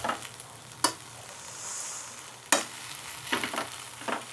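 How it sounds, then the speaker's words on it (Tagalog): An egg frying in a pan gives a steady sizzle, broken by a few sharp clicks and scrapes of stirring, with no voices. "Nagluluto na tayo ng egg"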